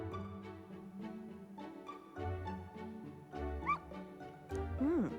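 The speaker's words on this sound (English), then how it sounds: "I took the dog out without anyone seeing and walked her around the capital." A dog in the video game Metaphor: ReFantazio whimpers and yips in short, high whining calls over steady game music, ending with a rising whine.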